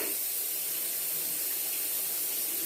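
Tap water runs in a constant soft hiss as sausages are rinsed under a faucet, with a steady spray and no talking.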